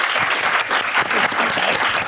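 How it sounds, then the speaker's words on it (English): Full, dense crowd applause for panelists at a SXSW panel on biotech and coral reefs, steady clapping throughout a short burst. "Can I get a round of applause for our panelists?"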